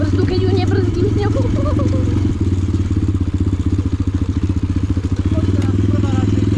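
A motorcycle engine rumbles loudly and close while riding through thick mud, with a rapid chugging pulse and clattering, and a voice briefly over it at the start.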